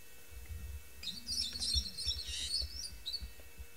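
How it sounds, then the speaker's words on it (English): A brown parrot calls on a live safari stream, a burst of high, raspy chirps and squawks over about two seconds with a later short call, heard alone above low rumbling background noise. "And the great call coming from this brown parrot."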